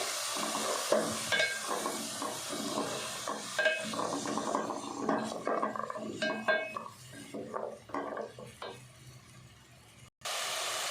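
Fenugreek, tomatoes and peas stirred and fried in a pan for methi matar pulao, with steady sizzling and scraping spoon clatter throughout, loud and close, ending in a brief pause.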